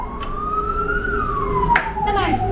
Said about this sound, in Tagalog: Sa lagi fire truck?